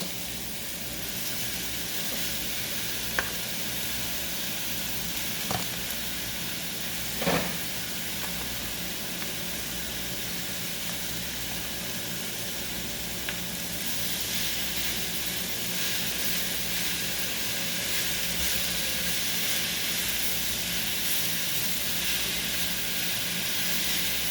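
Chopped onions cook down in a pan with a steady, even sizzle and hiss that fills the whole stretch, joined by a few faint clinks and taps, and no talking is heard.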